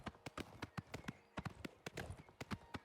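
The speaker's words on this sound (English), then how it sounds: "I have a horse. Look at my horse." Horse hooves clip-clop in Oblivion Remastered, a quick, steady run of sharp, close hoofbeats at a brisk walking gait, heard alone without talk.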